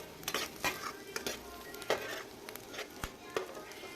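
Onions and green chillies sautéing in oil in a pan for chutney, with a steady close sizzle broken by repeated scrapes and clinks of a stirring spoon against the pan.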